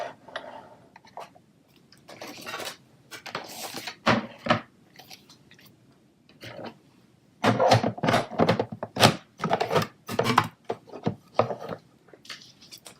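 A Stampin' Up Big Shot die-cutting machine being handled and run, with a series of close thunks, clicks and grinding crunches that grow busier and louder toward the middle, heard without talk.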